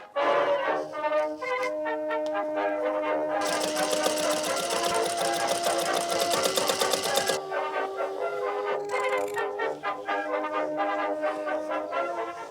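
A sewing machine stitches summer witch costume pieces together, its fast mechanical whirring running nearly nonstop up close with a steady hum and brief changes in pace.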